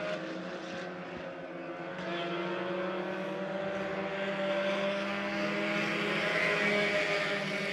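Several race cars roar around a speedway track in a feature race at Lebanon I-44 Speedway, a dense, steady engine drone that swells louder as the pack comes closer, with no talk.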